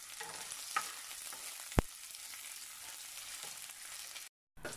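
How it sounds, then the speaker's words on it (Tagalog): Onion and ginger sauté in a pan for Bicol Express, giving a steady close sizzle with one sharp metallic clink partway through and a brief dropout near the end; no one talks. "ilagay na natin ang ating onion. Pati na rin ang ating ginger. Ihalo lang to at igisa together."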